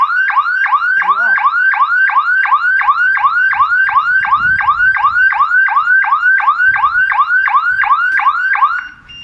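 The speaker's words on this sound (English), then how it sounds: "this is if an intruder cut any of your wires, that will trigger the alarm after 3 seconds" A loud electric fence intruder alarm siren, triggered by a cut fence wire, wails in a rapid, repeating whoop pattern, steady and close, running continuously before cutting off at the end.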